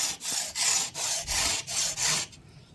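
A hand saw cuts through carbon bicycle handlebars in quick rhythmic strokes, about six close, loud rasping passes at an even pace before the sawing stops, with no talking.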